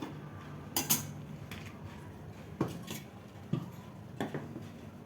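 A metal wok set onto a gas stove gives a few sharp metallic clanks and lighter taps, spaced irregularly across a few seconds in a quiet kitchen.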